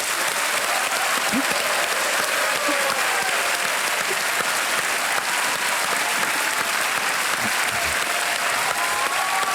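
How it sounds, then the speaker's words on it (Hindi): A studio audience on the Kaun Banega Crorepati game show gives a contestant a loud, sustained round of applause, dense, even clapping that continues without a break for nearly ten seconds. "ताली बज जाए इनके लिए।"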